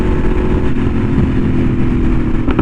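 A Yamaha R1M sportbike fitted with an SC Project exhaust is ridden on the road, with a steady, loud engine drone and rushing wind noise heard from on board.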